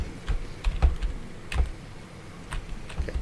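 A computer keyboard tapped in quick, irregular bursts of clicks while a video game is played, close and fairly quiet over a low background hum.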